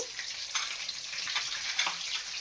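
Green chillies frying in hot oil, a soft continuous crackling sizzle with scattered pops and spits, fairly faint and close, with nobody speaking.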